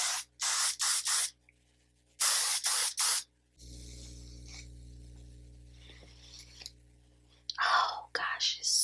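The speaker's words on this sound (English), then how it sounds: "I have my Oribe hairspray" Oribe hairspray hisses out in several short bursts, a quick cluster of three or four sprays, a pause with quiet rustling, then another cluster and more sprays near the end, close and loud.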